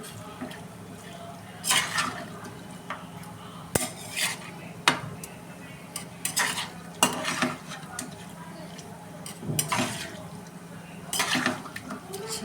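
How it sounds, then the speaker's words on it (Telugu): Chicken pieces are tossed with turmeric and salt in a metal bowl for a hotel-style chicken fry, intermittent clinks, scrapes and clatters coming close and irregular over a quiet background. "ఇలా మొత్తం చికెన్కి మొత్తం పసుపు పట్టేలాగా కలుపుకోండి."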